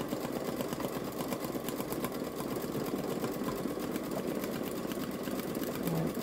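A Babylock Solaris Vision embroidery machine stitches out an old Easter design with a steady, continuous whirring hum and rapid needle rhythm, close and even throughout.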